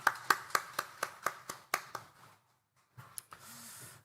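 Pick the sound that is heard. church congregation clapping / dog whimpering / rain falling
church congregation clapping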